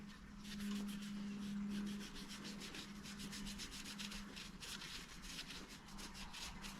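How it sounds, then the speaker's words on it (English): A cloth soaked in wax and grease remover rubs back and forth over a car part from a 1984 Bertone X1/9, making steady, quiet rhythmic scrubbing strokes over a low background hum. "I want to wipe off the wax and grease off of this piece"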